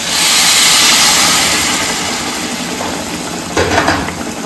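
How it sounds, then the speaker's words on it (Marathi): Hot water poured into a pan of ghee and cooked cracked wheat for wheat kheer, a loud rushing hiss that slowly fades, with a brief bubbling spurt near the end. "पाणी थोडं घालत आहे गरम"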